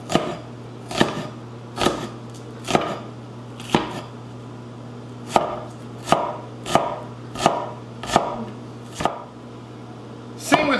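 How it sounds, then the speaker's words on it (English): A knife chops okra into chunks on a cutting board, about a dozen crisp thuds at an uneven, unhurried rhythm, close and clear with no talk. "you just cut off the tip as well as the end, and then you just cut them in nice chunks"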